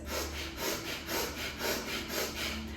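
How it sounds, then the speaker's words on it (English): Rapid rhythmic yoga breath-of-fire breathing through the nose, short forceful puffs repeating steadily at about two per second, close and fairly loud. "So the breath of fire basically sounds like you're panting like a dog"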